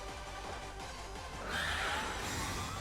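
A horse Pokémon cry sounds during a Pokémon VGC battle: a quiet, faint whinny-like call set against a low game soundscape, with no voices.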